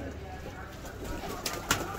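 A Salara pigeon among a fancier's flying pigeons gives soft cooing amid steady background hiss, with a couple of brief sharper sounds near the end.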